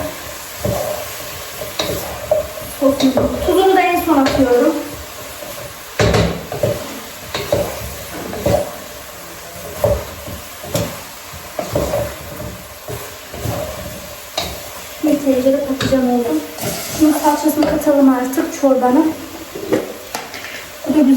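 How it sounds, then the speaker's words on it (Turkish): Eggplants sautéing in a pan give a steady sizzle with frequent scraping and stirring clatter from a utensil, while someone talks over it in stretches. "Patlıcanları güzelce bir kavurayım önce."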